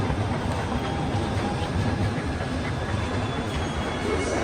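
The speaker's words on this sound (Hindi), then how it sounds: "इनका ये स्टेशन है, मेट्रो कह लें इसको, ट्यूब कह लें" A steady, loud rumble of an Underground train running through a busy London tube station, continuous and close for the whole stretch with no voices.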